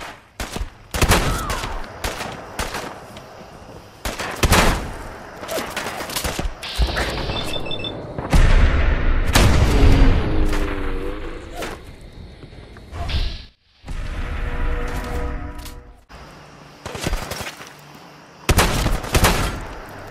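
Majestic Boomstick mod shotgun firing in Fallout 4, a series of loud, sharp blasts spaced across the clip with reloading clicks and mechanical clatter between them.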